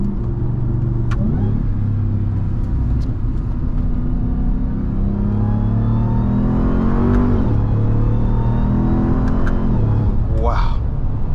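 A RAM 1500 TRX pickup truck's engine hums and rumbles steadily from inside the cab while driving, rising in pitch as it accelerates and revs, with people talking over it throughout.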